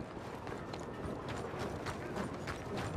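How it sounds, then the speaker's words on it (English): Horse hooves clip-clop in the Red Dead Redemption 2 video game, a quick, even run of soft thuds under steady background ambience, fairly quiet and without talk. "I've got my horse here."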